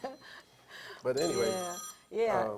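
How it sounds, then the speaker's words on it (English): A phone rings in a room with electronic tones that overlap people talking, a tone sequence mixed in with the voices. "Oh my goodness, that's my phone."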